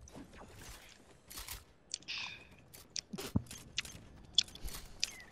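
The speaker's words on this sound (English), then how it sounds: "I'm chewing my gum" Gum being chewed close to a microphone, soft irregular wet smacks and clicks scattered over a few seconds, faint and intermittent with no talking.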